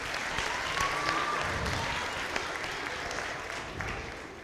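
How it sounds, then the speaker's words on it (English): An audience at a school rock and roll show claps for several seconds. The applause is soft and somewhat distant, with a low murmur beneath it. "Would you clap for them?"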